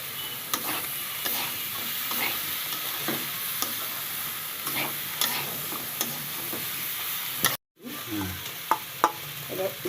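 Young jackfruit pieces frying in oil in a pan, a steady close sizzle broken by repeated scraping clicks of a spatula stirring, briefly cut to silence before the sizzling and stirring resume.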